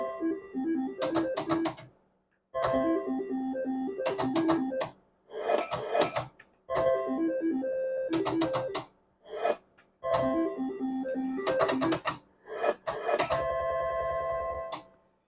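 Slot machine spinning in repeated rounds, each a burst of bright electronic chimes and tones lasting about two seconds, with short quiet gaps between them and a longer jingling payout near the end.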